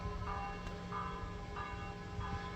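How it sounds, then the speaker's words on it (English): Church bells tolling in Rome, a slow run of ringing strokes roughly every two-thirds of a second, moderately distant over steady street background hum. "Bells are tolling for me."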